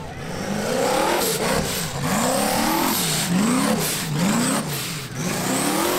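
An off-road vehicle crawls over pipes and into a tire pit on the 2022 HAVOC rock course, its engine revving up and down in repeated surges, loud and close.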